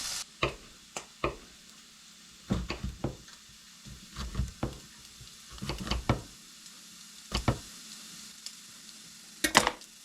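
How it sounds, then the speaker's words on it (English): Chopped onion browning in a soup pot, with intermittent sizzling and sharp stirring scrapes and clicks in irregular bursts against a quiet background, no voices. "Once it's more or less done, browned, then we're going to add the onion, and we're going to kind of do the same, brown it just a little bit"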